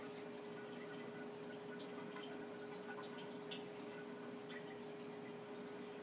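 Wort drips and trickles from a squeezed grain bag during beer brewing, a continuous close liquid patter with a faint steady hum beneath.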